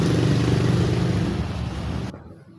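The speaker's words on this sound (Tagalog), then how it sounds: "maraming mga motor dito sa amin" Motor vehicles passing outside in a neighbourhood full of motorcycles, a rumbling engine drone that holds loud and close, fades somewhat, then cuts off abruptly near the end.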